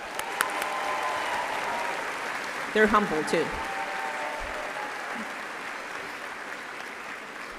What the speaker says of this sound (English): Students are standing for a round of applause.